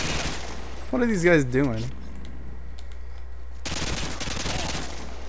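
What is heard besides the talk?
AA-12 shotgun firing in video game Modern Warfare 2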